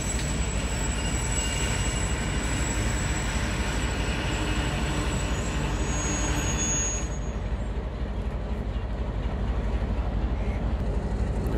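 A train standing and moving at Rabwah railway station, with a steady loud rumble of rail cars and wheel noise throughout and a faint high squeal that fades partway through.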